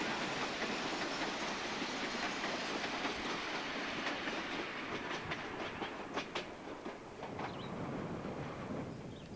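The North Star train rumbles past nearby under the I-95 overpass with a steady roar and a run of clicking wheel beats over the rails, no voices.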